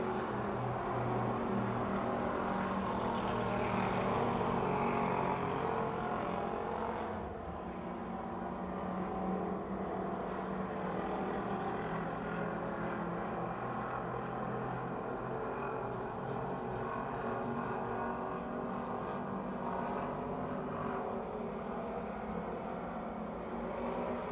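Race cars roar around Pennsylvania Motor Speedway near Pittsburgh in a steady engine drone, loud at first and then easing slightly as the pack moves on, with no voices over it.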